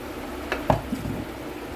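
Tomato and garlic paste is added to fried onions in a pan, giving a soft sizzle with a couple of brief stirring scrapes and splats partway through.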